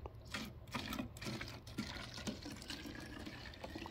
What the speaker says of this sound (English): So now we just add 14 ounces of water to this deal.